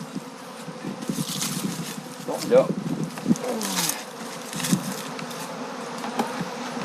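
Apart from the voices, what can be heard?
honeybees buzzing around an opened beehive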